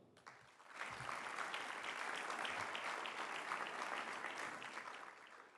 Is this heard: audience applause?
yes